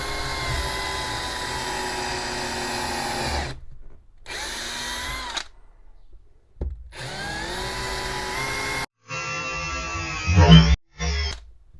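Cheap Parkside countersink bit boring into a knotty hardwood board over a scrap backing piece, the drill whining loud and steady in several bursts separated by brief pauses, ending in rough, grinding cuts.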